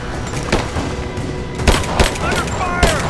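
Gunfire in Rise of the Tomb Raider, with scattered shots and booms in a busy battle mix and voiced shouting over the top.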